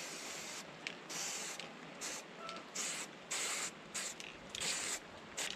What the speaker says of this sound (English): So what I like to do is get some black spray and spray it in.